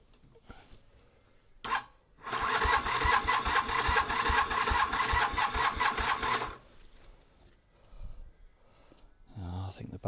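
A project motorbike with a newly finished exhaust cranks on a weak battery, then fires and runs with a loud, rapid pulsing note for about four seconds before dying. Voices are heard briefly before and after.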